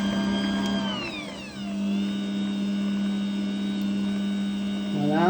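A food processor whirring as it mixes small pieces of butter, its motor whine dipping and then settling into a steady higher-speed drone, with a brief rise at the end.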